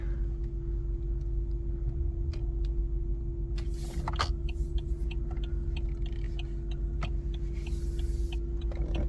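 A BMW 735i rolls slowly into a garage with a low steady engine hum, accompanied by repeated light ticking clicks and a few sharper knocks, no voices.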